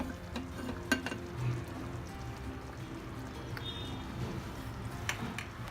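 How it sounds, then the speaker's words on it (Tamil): Mustard seeds and urad dal temper in about two tablespoons of hot coconut oil for pineapple gojju, a faint, close crackle with scattered sharp pops and light clinks over a low hiss. "தேங்காய் எண்ணெயில் கொஞ்சம் கடுகு, உளுத்தம்பருப்பு,"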